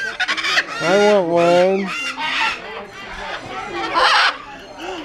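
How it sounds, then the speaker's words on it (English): Parrots at Parrot Mountain screech and squawk loudly at close range in repeated harsh, warbling calls, with people talking among them. "Those birds are intimidating. They're yelling, feed me, feed me."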